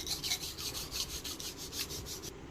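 Casting sand is scraped level across a mold for sand-casting silver, making a rhythmic rasping sound of about a dozen quick back-and-forth strokes, close and fairly quiet, with no talk.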